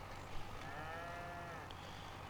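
Cow mooing in Farming Simulator 25, a long, drawn-out moo with gliding tones rising and falling over steady farm-machinery background noise, heard once at moderate distance without any voices.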